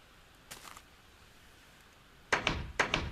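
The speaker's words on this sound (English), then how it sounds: "sorry for the door noises" Minecraft doors in a redstone clock build swing open and shut with sharp wooden clacks: one short pair early, then a louder, quicker run of knocks near the end, with quiet between.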